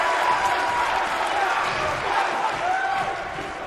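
A wrestling arena crowd in the video game WWE 2K19 keeps up a steady, excited roar, with a faint tonal call rising over the noise.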